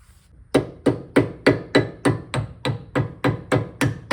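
A Miata wheel hub's center cap being hammered into place, about twelve sharp evenly spaced metallic knocks in a steady rhythm, loud and close, with no talking.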